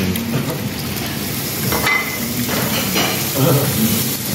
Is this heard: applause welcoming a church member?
no